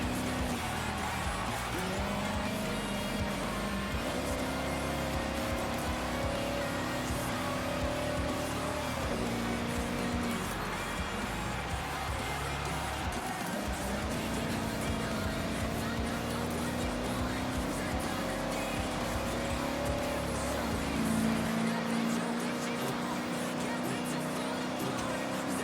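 American cars driving in the racing game Forza Horizon 6, a steady engine drone with a shifting low hum that holds for the whole stretch, lightly varying in pitch as the cars climb a hill, with faint talk now and then.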